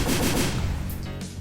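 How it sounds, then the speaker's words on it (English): A synthetic C4 explosion effect from the SuperTux Advance video game, built from mixed noise, rumbles as a dense, crackling blast with rapid popping bursts, moderately loud and alone. "I do love that new explosion sound."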